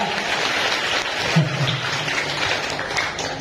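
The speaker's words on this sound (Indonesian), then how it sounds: "Tepuk tangan dong buat saya." An audience at an Islamic boarding school gathering, Ponpes Daar El Hasanah in Jawilan, gives steady applause for a speaker. The clapping is dense and continuous throughout, fairly loud, with no voices rising above it.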